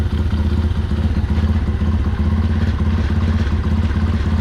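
Motorcycle engine idling close up during carburetor mixture adjustment, a loud steady low rumble with rhythmic mechanical clatter.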